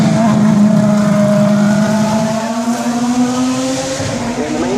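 A powerful V12 car engine drones at steady revs nearby at the Goodwood Festival of Speed, its pitch dipping and then slowly climbing, with no voices over it.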